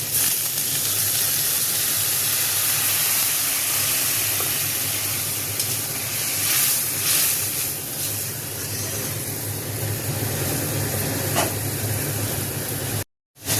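Water splashed into a pan of spiced okra frying in mustard and poppy seed paste gives a loud, steady hiss of sizzling steam that runs unbroken for about thirteen seconds before cutting off abruptly.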